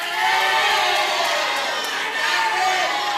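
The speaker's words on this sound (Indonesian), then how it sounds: "Silakan untuk pendukung paslon nomor urut 3 memberikan tepuk tangan kepada paslon yang" Supporters at a live regional election debate cheer their candidate pair with loud, continuous crowd shouting and whooping that barely dips across a few seconds.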